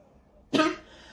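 A single sharp cough bursts out after a quiet moment, brief and close, trailing off into faint breath.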